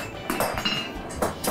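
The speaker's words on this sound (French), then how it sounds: "je vais te faire utiliser le marteau du maître" A blacksmith's master hammer strikes metal while forging the point of a leaf, giving a quick run of about five sharp, ringing clinks at close range.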